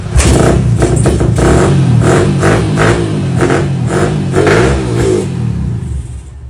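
A nearby motorcycle engine revs hard and continuously, with repeated throttle blips rising and falling over a steady loud roar before easing off at the end.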